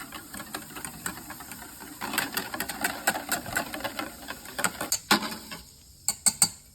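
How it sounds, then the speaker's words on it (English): A whisk rattles rapidly against a bowl while barbecue sauce is mixed, quick irregular metallic clicks and scrapes, close and fairly quiet, intensifying toward the end. "Give it a good whisk."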